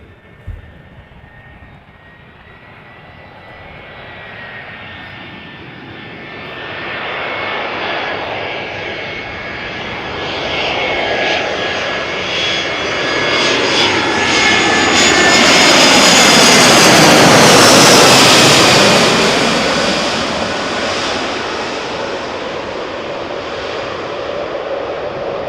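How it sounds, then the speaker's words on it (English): An Airbus A320 from Milan arriving at Amsterdam Schiphol airport, its jet roar swelling from a distant hiss to a loud, close pass with a sliding whine, then easing off slightly. "A320 arriving from Milan, flight time 1 hour and 19 minutes."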